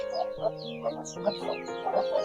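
Hens cluck on a country poultry farm in a series of short, repeated calls that stand out over a quiet background.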